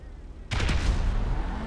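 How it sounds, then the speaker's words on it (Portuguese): A grenade detonates in GTA V during a Pfister 811 versus Grotti X80 Proto speed test, a sudden loud blast after half a second of quiet, followed by a rumbling, crackling decay that lingers to the end. "Vamos lá, agora jogar aqui a granada."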